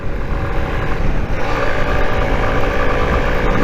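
A 25-year-old Honda CG125 motorcycle revs hard on the road, its single engine droning loud and close as it climbs and holds under steady load, with wind and road noise around it.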